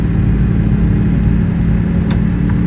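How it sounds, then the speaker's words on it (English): A Cummins ISX truck engine, 500 horsepower with a 13-speed transmission in a 6x4 chassis, runs in American Truck Simulator as a steady, loud low drone that holds without pause throughout. "I am running a 13 speed in this truck with I think Z Mods Cummins ISX engine, 500 horsepower"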